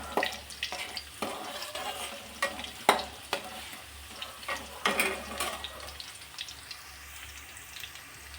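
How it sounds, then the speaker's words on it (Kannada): Crushed garlic sizzling in a pan for tomato gojju, a bright crackling fry broken by repeated sharp scraping strokes of a spoon, loud and close. "ಬೆಳ್ಳುಳ್ಳಿ ಚೆನ್ನಾಗಿ ಸ್ವಲ್ಪ ಫ್ರೈ ಆಗಬೇಕು"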